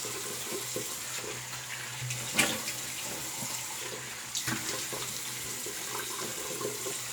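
Cold water runs from a bathroom tap while someone rinses after a shave with a Marvel all-metal three-piece safety razor. It makes a steady close hiss of flowing water, broken by a couple of brief splashes.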